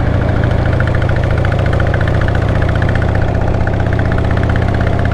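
An older motorcycle engine running steadily and loudly while riding over bumps, a constant low rumbling drone with slight rhythmic vibration and no pauses.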